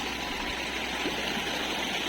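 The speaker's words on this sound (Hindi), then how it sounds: "नाले में काफ़ी ज़्यादा" A village stream, or nala, flows beside paddy fields in a steady, broadband rush of running water that fills the whole span, close and constant, with no voices.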